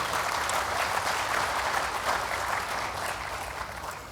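A crowd at an international conference applauds steadily, a dense wash of clapping that holds evenly throughout and tapers slightly at the end.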